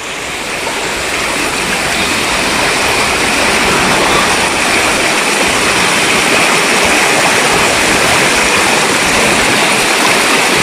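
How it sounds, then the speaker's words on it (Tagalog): Loud, steady rush of floodwater surging through a creek near a pig pen during heavy rain, a dense continuous roar that stays close and unbroken throughout. "lalong lumakas ang baha."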